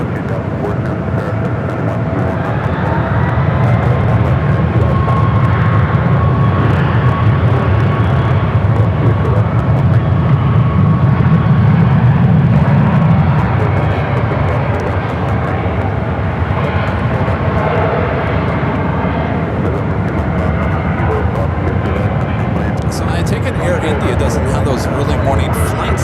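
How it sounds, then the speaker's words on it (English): A Delta Boeing 777LR jet at San Francisco airport gives a loud, continuous engine roar with a rumbling low end that swells and then eases, with people talking over it throughout. "Those old Delta 777LRs."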